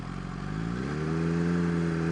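A 2020 Kawasaki Z H2 supercharged streetfighter motorcycle engine, loud and close, climbing from a rough idle into a rising, sustained rev that holds at higher pitch, with no talking.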